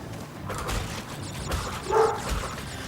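A small dog gives a few short, yappy barks and whimpers at a moderate distance, with faint background noise.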